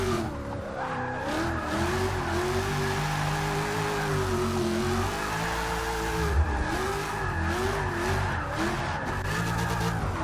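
A Ford Fox Body drift car with a 5-litre engine, driven in Forza 6, holds a steady engine drone with rising and falling revs and continuous tire squeal from sliding, heard alone at moderate level.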